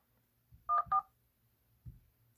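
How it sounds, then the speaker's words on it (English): Three short keypad tones from a Xiaomi Redmi Note 8T as a call is dialed: two quick tones close together, then a fainter third a moment later, clean against near silence. "when you go to make a phone call"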